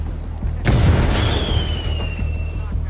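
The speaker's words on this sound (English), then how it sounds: "Find out what triggered that explosion." Explosion in the Hitman 2 video game, a sudden loud boom with a bright crack, then a rumbling tail and a lingering high whine over game ambience.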